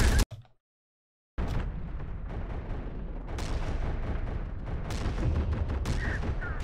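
Artillery fire and explosions from the video game Terminator: Dark Fate - Defiance, a sharp blast followed by a second of silence, then a dense, continuous rumble of booms and gunfire that builds in intensity.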